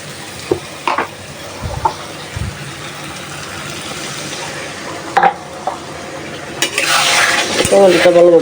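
Fish curry spices fry in a pan during light rain, a bubbling sizzle with scattered utensil knocks and scrapes that swells into a louder, steady hiss near the end, with no one talking.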